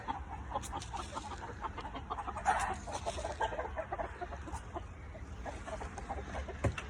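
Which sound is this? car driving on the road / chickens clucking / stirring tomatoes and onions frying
chickens clucking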